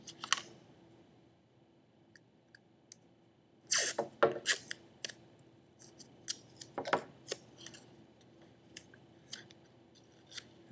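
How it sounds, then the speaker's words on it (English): Tape is torn and pressed onto the open end of a folded paper ramp, with sharp close ripping and crinkling bursts followed by scattered small clicks and taps in a quiet room. "First I'll tape it, the open end of it,"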